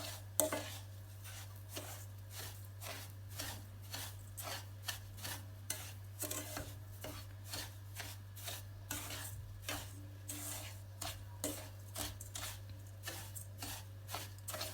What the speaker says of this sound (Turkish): Biraz şekerler erinceye kadar karıştırıyorum.